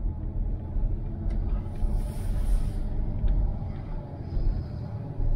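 A Fiat Coupe 20V Turbo idles with a steady, low rumbling engine drone, continuous and fairly close, with no talking.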